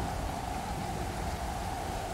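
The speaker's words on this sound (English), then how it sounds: "Still raining." Steady rain in the survival game Stranded Deep, a continuous even wash of falling water with no talk over it.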